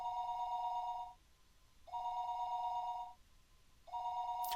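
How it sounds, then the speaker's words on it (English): Telephone in the video game Higurashi When They Cry ringing in three long, even electronic trills separated by short pauses, clear and alone over a quiet background. "The phone suddenly rang."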